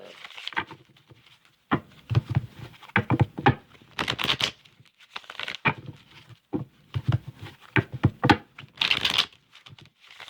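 Tarot cards being shuffled in repeated quick bursts of riffling and flicking, close up, with brief pauses between rounds.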